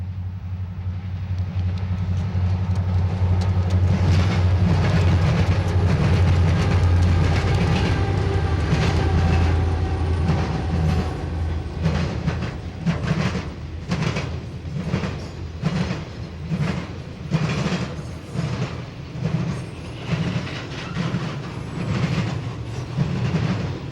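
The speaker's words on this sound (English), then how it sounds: "another member of the eastbound intermodal fleet, TV-14, rolling past the tower 6 minutes later" Eastbound intermodal freight train TV-14 rolls past a tower at Berea with a heavy, close rumble that gives way to a steady, rhythmic clickety-clack of wheels over rail joints as the cars pass.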